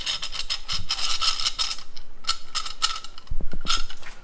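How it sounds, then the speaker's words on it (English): A large C-clamp is cranked down against a brake pad to push the caliper piston back on a Kia Soul's front brakes, giving a series of close metallic ratcheting clicks and gear-like ticks with no voices. "crank that down, pushing against the pad, and that'll push the piston back in"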